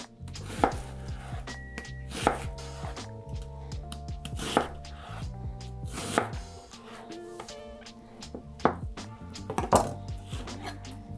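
A knife chops an onion into small dice on a board, a run of crisp, close, uneven strikes with short pauses between bursts, occasional clinks of a pan in the background and no talking.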